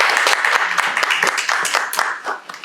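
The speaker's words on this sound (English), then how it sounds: "And we want to applaud Ms. Cassandra Jones for an awesome job." People at a school board meeting applaud a staff member, a short burst of scattered clapping from a modest gathering, fairly close and tapering toward the end.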